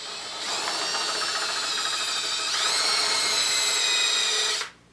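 Electric drill running in reverse into a mahogany PRS-style guitar body: a steady, close, high whine that steps up in pitch partway through and cuts off abruptly near the end, with no talking.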